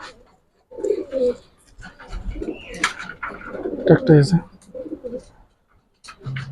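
Racer pigeons coo in repeated soft, throaty phrases at a pigeon farm, close by, mixed with a few chirps while people talk nearby.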